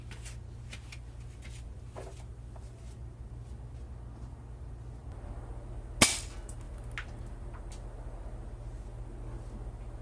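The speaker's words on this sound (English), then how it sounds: "let's shoot those the Gamma rockets" A single sharp gunshot fires a Gamma rocket round into ballistics gel, sounding loud and abrupt partway through against a low steady background hum, with faint clicks before it.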